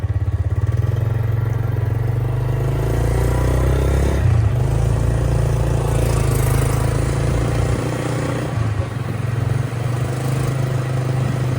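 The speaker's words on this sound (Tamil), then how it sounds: "இதுதான் நம்மளோட வாகனம், ஸ்கூட்டி. நம்ம இப்போ அப்படியே கிளம்பி வீட்டுக்கு போவோம்." A small scooter engine drones steadily and close throughout, with some rattling and street noise, as the rider pulls away on a street in Vietnam.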